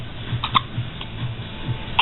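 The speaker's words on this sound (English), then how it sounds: "I'm glad I got her hiccups recorded." A baby's hiccups, several soft, short, regularly spaced hiccups heard close up in a quiet room, with no talking.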